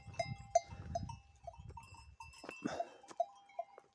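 Sheep and lambs of a village flock, reunited with their mothers after coming down from the mountain, call in repeated short bleats at close range, with rustling, shuffling movement and a bell-like tone in the background.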